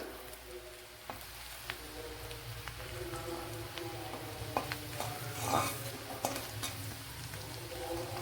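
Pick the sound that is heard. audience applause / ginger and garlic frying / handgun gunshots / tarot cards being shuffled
ginger and garlic frying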